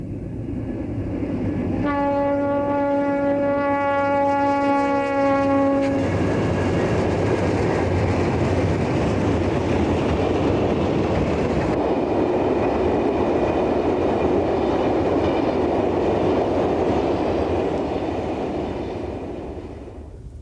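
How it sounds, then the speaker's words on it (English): An eastbound Santa Fe freight train led by red and silver GE warbonnet locomotives on the Arizona desert main line sounds a loud multi-note horn blast, then rolls past with a steady heavy rumble of engines and wheels. "An eastbound 757 train heads toward Winslow"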